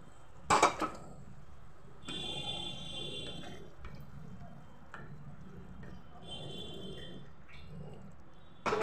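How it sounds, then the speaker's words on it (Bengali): Potatoes and peas go into a pan of fried spices for a homemade green pea ghugni, giving a few clattering knocks and then a soft, steady sizzle that rises and falls, with faint utensil clinks. "এবার দিয়ে দিচ্ছি আলু মটরটা।"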